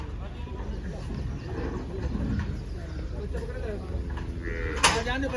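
Cows lowing and moving amid a busy, noisy crowd at a cattle market, with voices talking throughout and a sharp clank near the end.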